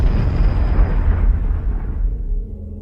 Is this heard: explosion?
yes